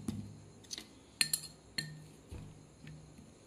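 Kashmiri red chili powder stirred with a little water into a paste in a small bowl, a few sharp metal spoon clinks and taps against the dish, spaced irregularly and fairly quiet.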